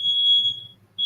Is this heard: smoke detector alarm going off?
yes